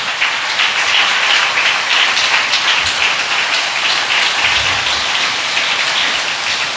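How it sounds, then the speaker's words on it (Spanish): A church congregation in a Spanish-language worship service claps loudly and continuously, a thick, even wash of applause that holds steady from start to finish without pause. "denle un aplauso al Señor"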